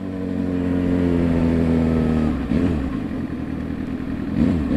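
Several motorcycles ride together in a group, engines droning steadily with a rising rev tone, then shifting into rougher, uneven throttle pulses as the pack moves along, loud and close throughout.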